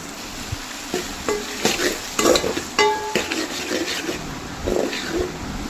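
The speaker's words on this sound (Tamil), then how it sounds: "அதை கொஞ்சம் அந்த நெய்யில் வறுக்கணும்" Jackfruit pieces roast in ghee in a pan for jackfruit payasam, with a sizzling fry under repeated scraping stirs of a spoon against the pan, close and moderately loud with no talk.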